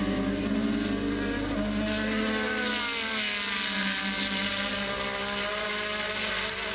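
A 1985 Formula 1 race car at the British Grand Prix at Silverstone, its high-revving engine screaming loudly and steadily, pitch sweeping as it passes close.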